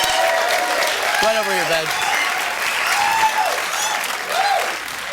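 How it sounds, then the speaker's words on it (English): A studio audience on a dating game show breaks into steady, full applause for contestant Betsy, the clapping continuing throughout while the host talks over it. "Give Betsy a round of applause."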